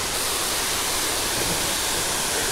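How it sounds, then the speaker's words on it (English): Waterfall roaring steadily down a wooded trail, a dense, constant rush of falling water filling the whole clip with no voices. "First waterfall we're going to fish today"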